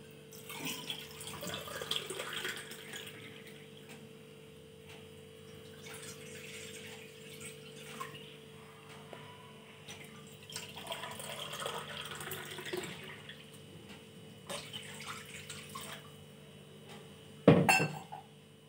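Water poured from a glass into a cooking pot to heat for rice-flour dough, a soft, quiet trickle that runs steadily, then ends in a sharp clink near the close.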